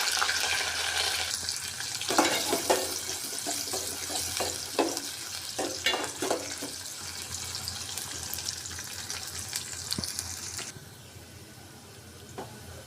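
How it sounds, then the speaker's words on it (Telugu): Onions fry lightly in a pan for Rayalaseema brinjal curry, giving a soft, steady sizzle with a few stirring clatters. The sizzle fades quieter near the end, with no talking. "ఇవి కొంచెం లైట్గా వేగిన తర్వాత ఒక ఆనియన్ వేసుకోండి చిన్న ముక్కలుగా కట్ చేసుకోండి"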